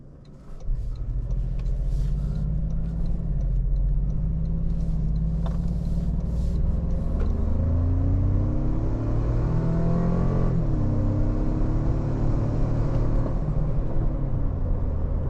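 A 2025 Toyota 4Runner Trailhunter with an 8-speed transmission drives on the road, its engine a steady cabin rumble that rises and shifts through gears, with no talking.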